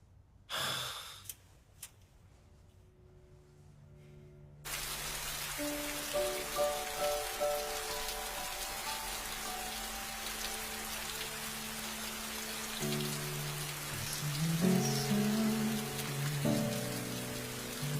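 Rain falls steadily after a quiet opening, a dense even hiss of drops that sets in suddenly and continues under soft, sustained dramatic music in a Korean period drama scene.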